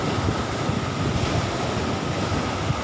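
Loud, continuous roar of rough sea waves crashing at Nong Bua Beach, mixed with strong wind noise across the microphone.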